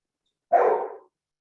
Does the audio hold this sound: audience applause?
no